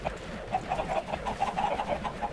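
Minecraft chickens clucking close by in a farm pen: a quick run of short, repeated clucks over a low background murmur, with no voices.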